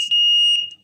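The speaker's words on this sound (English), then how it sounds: "It closes the circuit, and then the alarm goes off." A septic tank pump alarm triggered by shorting its terminals, giving a single piercing high electronic beep that holds steadily for about half a second, loud and close, then cuts off.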